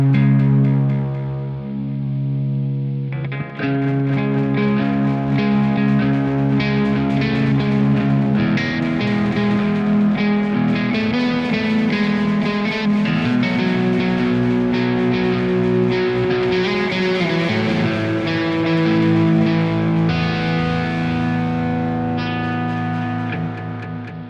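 Electric guitar notes ring out through a delay effect in Max 7, echoing repeats trailing behind them, a sustained, layered tone playing continuously.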